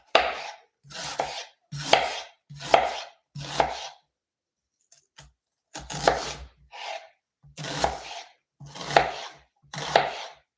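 Knife chopping through an onion on a cutting board during freezer meal prep, roughly ten crisp, close strokes in an uneven rhythm with a short pause midway.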